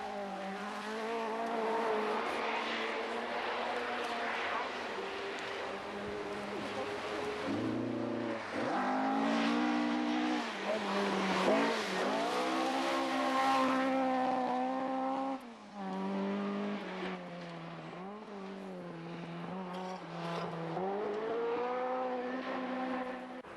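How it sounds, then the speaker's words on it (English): A 2-litre Ford Escort rally car races through a Scottish forest stage, its engine revving hard and rising and falling through gear changes, heard at moderate distance with no talk. "North East of England dentist Bill Limburn enjoys the Scottish forests in his 2-litre Escort"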